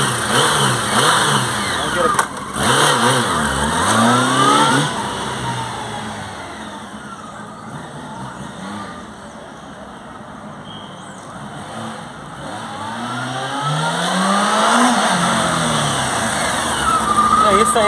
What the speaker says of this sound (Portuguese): vou dar uma ligadinha na moto agora, só para vocês verem como é que tá o ronco dela